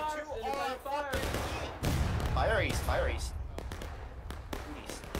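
Musket fire crackles through a War of Rights battle, with scattered sharp reports and a sputtering volley that mix with several overlapping shouted voices and commands.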